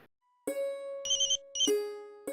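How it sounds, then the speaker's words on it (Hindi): A mobile phone ringtone plays a bright, repeating electronic melody of distinct notes, loud and close with short gaps between phrases. "अरे तपस्या का फोन"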